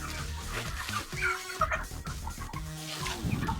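Several chickens cluck and murmur close by in a poultry shed, their calls overlapping in short, uneven bursts.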